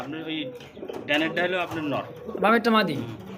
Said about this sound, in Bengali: শার্টিন কবুতর তাই না ভাই ব্ল্যাক শার্টিন